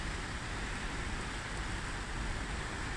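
Heavy rain falls near a footbridge and waterfalls on the way to a village, a dense, steady broadband hiss that fills the whole stretch without a break and sounds loud and close.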